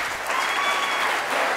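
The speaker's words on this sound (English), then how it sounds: "Please give them a round of applause." Audience applause for candidates at a 2nd Congressional District debate in 2012, a dense, steady wash of clapping from a roomful of people, loud and close throughout.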